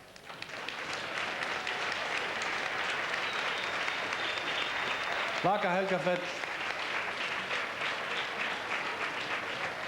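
Audience applause welcoming a songwriter onstage at a televised Icelandic song contest, steady dense clapping from a crowd throughout, with a brief voice speaking over it midway.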